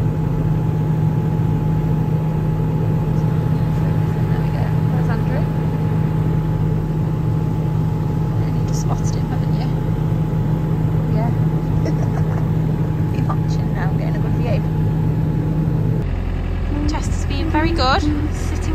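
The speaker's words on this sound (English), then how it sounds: "Are you spotting the tractor over there, Chester?" A nearby tractor engine keeps up a steady low drone throughout, with someone talking over it now and then; the engine tone shifts slightly near the end.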